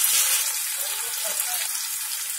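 Chopped onions fry for a masala dosa filling, a steady loud hiss and sizzle filling the pan throughout with no break.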